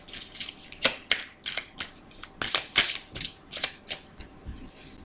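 Tarot-style cards riffle and slap in a steady run of quick bursts during a card reading, close and crisp, with no talking over them.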